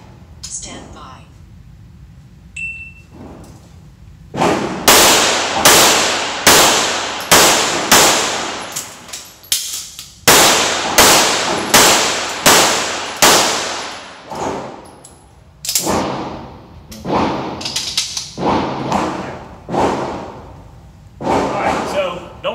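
Repeated gunshots fired from a shooting bench at a range with a mandatory reload, a rapid string of loud close sharp reports, a brief pause, then more shots in quick succession, with voices talking at the start.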